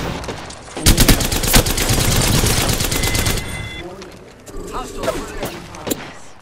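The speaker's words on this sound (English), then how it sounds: "They spotted me. I'm taking shots." Loud, close gunfire in the video game Apex Legends, sharp shots opening into a sustained rattling volley that fades to scattered pops, with a player talking over it.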